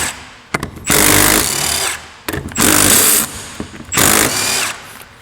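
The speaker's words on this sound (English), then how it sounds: "So this is a 12 millimeter 12-point socket." A power tool driving a 12 mm 12-point socket to remove a part from a Toyota engine, in three loud, sustained whirring bursts, each preceded by short clicks and separated by brief pauses.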